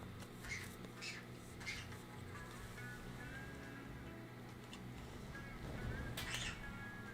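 A pet bird gives short squawks and chirps in a quiet room, several brief faint calls spaced apart.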